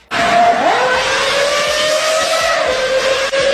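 A BMW S85 B50 V10 engine screams at high revs toward 8,250 RPM, a loud sustained wail that rises briefly then holds steady, close and aggressive, with no talking.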